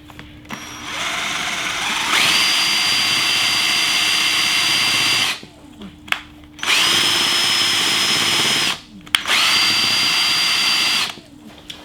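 A small DC motor with a clip on its shaft, fed by a homemade induction alternator through a bridge rectifier, whirs up to a high steady whine three times, each run stopping abruptly after a few seconds, loud and close.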